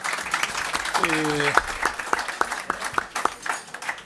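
An audience at a Madrid club luncheon lecture claps in separate, fairly sparse strokes that thin out, while a speaker's voice runs over the applause.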